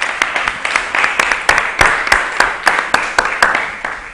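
An audience applauds for the artist Alejandro at an art event, a dense burst of rhythmic clapping from a small crowd that stays steady and close for several seconds.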